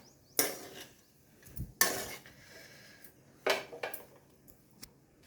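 A spoon stirs cabbage rice in a cooking pan, making a few sharp metallic scrapes and clinks spaced irregularly amid quiet pauses.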